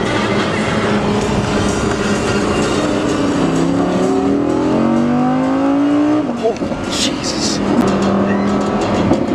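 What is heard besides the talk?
Audi R8 engine revving, heard from inside the car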